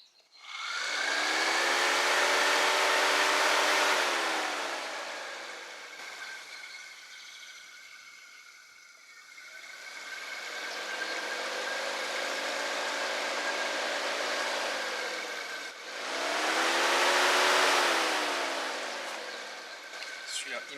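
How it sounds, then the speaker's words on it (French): Electric cooling fans for a car run on a test before installation. A loud whirring hum spins up, drops to a softer speed for a while, then surges again at the end. "donc là, on va tester les ventilos avant de les installer"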